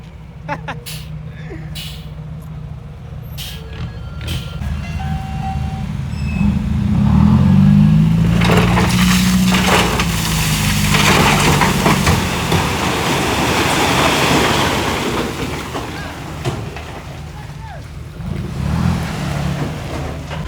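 A six-wheel dump truck unloads soil and gravel at a temple, its engine rumbling and revving loudly with a long rolling rush of tipped material in the middle, while voices talk over it throughout.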